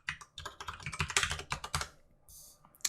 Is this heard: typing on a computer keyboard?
yes